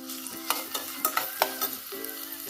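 Whole spices fry and are stirred in a tiny miniature kitchen pan, giving a steady sizzle broken by several sharp scraping stirs roughly every half second, close and clear with no talk.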